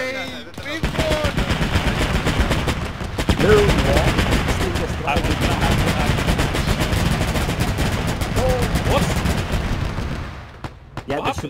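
Rapid machine-gun bursts and scattered gunshots fill a World War II battle in Arma 3, dense and continuous for most of the stretch, with voices talking over the firing.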